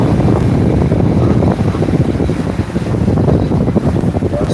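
Racing powerboat catamarans run the course at Torquay, and their engines make a loud, continuous roar mixed with heavy wind buffeting on the microphone.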